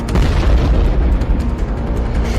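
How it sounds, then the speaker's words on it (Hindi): A cluster bomb launches and explodes in a war news sound effect, with a loud, continuous deep rumbling boom throughout and no voices. "क्लस्टर बम ऐसे लॉन्च होता है और फिर अपने टारगेट के ऊपर ऐसे फटता है"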